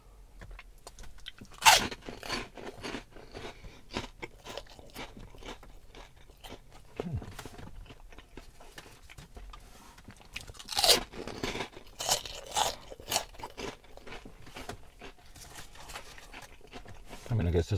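Taco Bell cinnamon twists crunched and chewed close to the mic, with irregular crisp bites and chewing scattered through, the loudest crunches near the start and around the middle, plus a soft voice at times.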